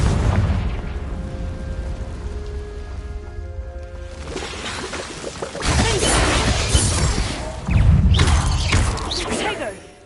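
Confringo blasting spells explode in Hogwarts Legacy, loud crashing bursts with shattering debris arriving twice in the second half after a calmer stretch, with voices faintly present.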